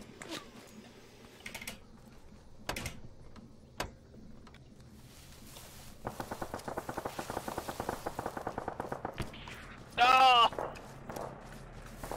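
Rifle fire in the military game Arma 3, scattered single shots then a long rapid burst of automatic gunfire, with a speaker talking quietly over it.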